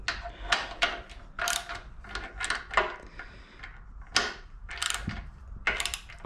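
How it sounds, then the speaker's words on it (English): A hand ratchet clicks in short repeated bursts while tightening the strike plate on the pony truck of a 7.25-inch gauge steam locomotive, with metallic creaks between strokes, close and fairly loud. "I can't seem to hold the blooming ratchet."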